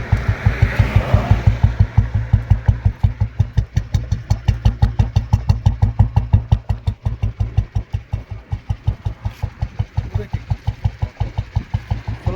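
A Royal Enfield Bullet motorcycle's single-cylinder engine idles close by with a steady, loud thumping beat, even and regular throughout, with a brief rise in revs near the start.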